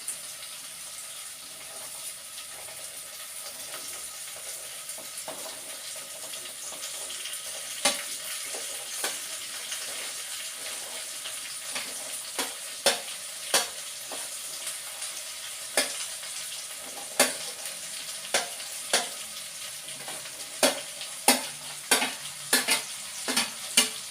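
Long beans being stir-fried in a pan, with a steady sizzle throughout and a series of sharp utensil scrapes and knocks coming more often toward the end as the vegetables are stirred.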